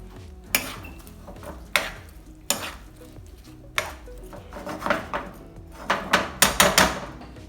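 Food seasoned with pepper and paprika cooks in a pan while a utensil stirs it, giving a run of sharp scraping clacks against the metal over a low sizzle, quickening toward the end.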